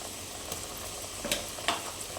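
Ginger garlic paste sizzles in a hot pan while being cooked for mutton curry, a steady soft frying hiss broken by a couple of sharp stirring scrapes.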